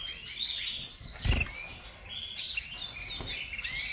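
Bird chicks chirp from a nest in overlapping high, thin calls, fairly close and steady throughout, with a soft thump partway through.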